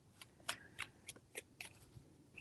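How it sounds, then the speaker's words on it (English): Tarot cards being shuffled by hand: a quiet run of about seven short, crisp flicks and riffles in quick, uneven rhythm, close by with nothing else around. "Three shuffles."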